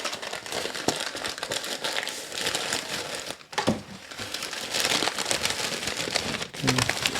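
Paper packing material crinkles and rustles loudly and continuously as a cookie box from Grove Cookie Company is unwrapped, with one brief pause midway.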